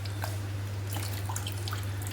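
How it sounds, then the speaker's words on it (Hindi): Water drips and trickles steadily as fermented chicken feed is strained through cloth, the liquid falling in soft, close, irregular patters over a constant low hum, with no talking. "इस कपड़े के अंदर से हम इसका पानी निकाल लेंगे"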